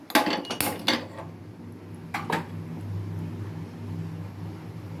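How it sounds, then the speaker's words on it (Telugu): A gas stove is lit under a pan of oil in a home kitchen. A few sharp metallic clicks come first, then a soft, steady low hum continues. "ఇప్పుడు స్టవ్ వెలిగించుకుందాం"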